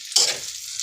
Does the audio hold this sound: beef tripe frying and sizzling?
yes